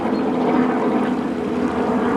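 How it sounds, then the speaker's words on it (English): A helicopter passes overhead, a steady, loud engine drone with a throbbing low hum, continuous throughout; no talking. "a helicopter making a big noise up above"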